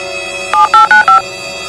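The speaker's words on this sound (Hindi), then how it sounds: "तुम सनी को फोन मिलाओ" A telephone keypad being dialed in a Hindi comedy sketch: four quick two-tone beeps in a steady rhythm, loud and close, over a constant background hum with no talking.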